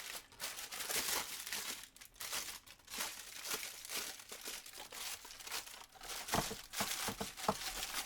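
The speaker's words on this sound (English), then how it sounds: "if you crumble your parchment, it cooperates a lot better when you're trying to use it for anything" Parchment paper for a brownie pan being crumpled by hand, close, irregular crackling and crinkling bursts continuing throughout without speech.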